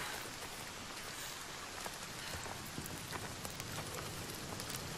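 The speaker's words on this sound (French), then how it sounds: "Les éclairs, la pluie, tu ressens l'humidité, quoi." Steady, dense rain falls in Senua's Saga: Hellblade 2, a continuous close hiss of drops on surfaces with faint scattered patters throughout and no voices.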